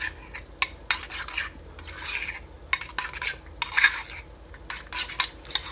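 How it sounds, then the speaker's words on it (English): A spoon scrapes and clinks in a bowl while Bacon Big Mac pie ingredients are stirred together, irregular close-up taps and rasps with short pauses between strokes and no talking. "So I'm going to mix it over here so you guys can see."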